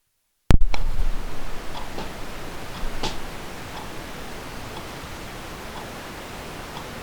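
Wristwatch ticking near a cheap BOYA BY-PVM1000L shotgun microphone, faint steady ticks buried under loud constant hiss from the mic's self-noise, after a sharp click at the start.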